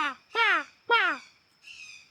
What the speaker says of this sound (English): The bird's always going off.